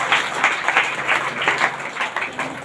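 A church congregation claps together in thanksgiving to God, a dense, rhythmic wave of many hands with regular pulses of emphasis, loud and continuous with no voices over it.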